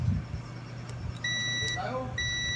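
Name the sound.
continuity tester buzzer beeping, weak battery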